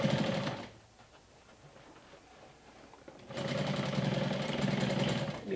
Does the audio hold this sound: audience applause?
no